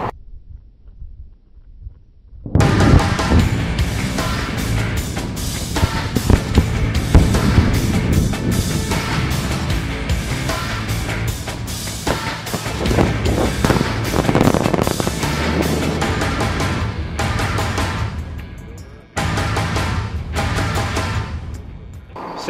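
After a brief quiet, a sudden loud blast erupts into a long rumbling, crackling roar of a quarry explosion that persists for many seconds.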